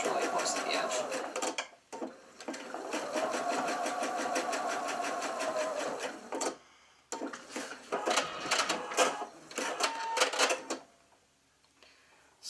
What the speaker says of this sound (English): I'm going to stitch it very close to the edge, just to hold it in place